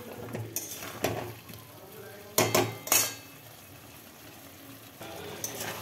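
Potato curry (aloor dom) sautéed in a pan for a vegetarian dish with mung dal, with clanking spoon-on-pan stirring in short bursts over a low sizzle, close and without talk.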